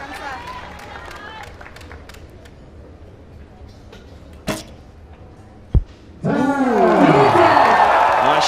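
Crowd at an archery world championship match breaks into loud cheering and applause that swells suddenly and holds, following a few sharp thuds over quieter background chatter.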